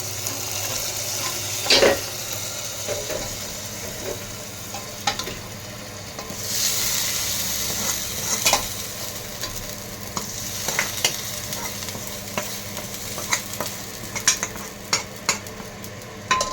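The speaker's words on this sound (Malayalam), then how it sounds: "ഇത് നമ്മൾ വേവിച്ച് വെച്ച പരിപ്പ് കറിയിലേക്ക് ഇത് ഒഴിച്ചു കൊടുക്കാം കേട്ടോ." Hot chili tempering poured into cooked dal (parippu) curry, giving a sustained bright sizzle with scattered clinks and stirring taps from a pot, close and steady with no talking.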